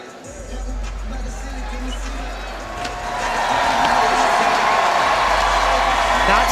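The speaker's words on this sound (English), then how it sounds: "so awesome to hear this amazing crowd getting behind her" A large crowd at the 2023 SLS Chicago women's skateboarding final roars with sustained cheering that swells noticeably halfway through and stays loud to the end.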